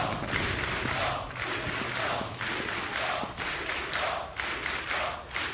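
Esports arena crowd at a CS:GO playoff match on Overpass, ESL One 2015 Katowice, a dense continuous roar of cheering and shouting that swells and surges steadily throughout.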